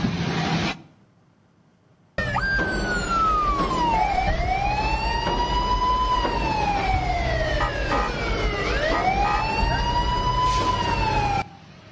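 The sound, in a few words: emergency vehicle siren on a civilian minibus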